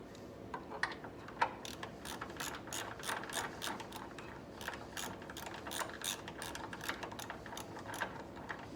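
A ratchet clicks rapidly in bursts while tightening the bolt on the starter's negative terminal of a 2010 Chrysler Sebring, close and crisp, with a brief pause midway and no talking.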